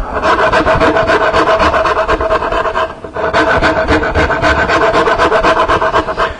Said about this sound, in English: This is a cabinet maker's rasp. It's a Nicholson. I got number 49.